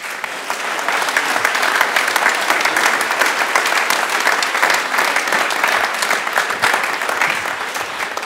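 Sustained audience applause fills a conference hall, dense and even clapping from a large crowd, loud and continuous for several seconds without talk.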